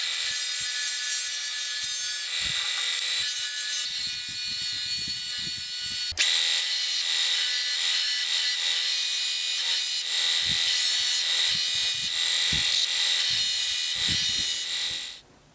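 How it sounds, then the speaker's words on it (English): A loud, continuous grinding rasp from a power sander grinding down steel while making an ACME tap, steady throughout with a brief jolt partway through, then cutting off at the end. "take it over to the sander and take it down a bit"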